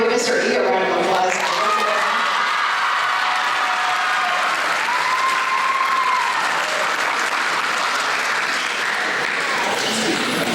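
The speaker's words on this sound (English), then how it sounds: "Give Mr. E a round of applause." A high school concert awards audience gives a sustained round of applause, dense clapping from a crowd filling the hall, steady and fairly loud throughout.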